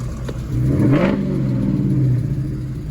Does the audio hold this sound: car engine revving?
yes